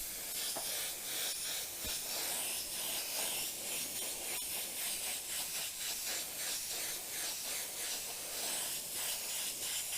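A continuous, even hiss of spray paint being applied to a Harley-Davidson motorcycle part runs steadily throughout, close and fairly loud, with no pauses or voices.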